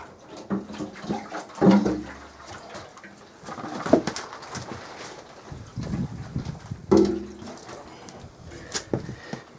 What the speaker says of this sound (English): So I'll just let that fuel drain off now on prime